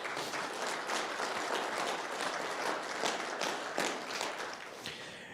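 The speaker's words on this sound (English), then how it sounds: "Give yourselves a round of applause for coming out and helping us this morning, please." Steady applause from a crowd, many hands clapping continuously for several seconds at a fairly even level.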